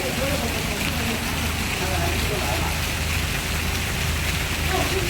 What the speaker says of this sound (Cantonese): 落雨啊，頭先好大雨啊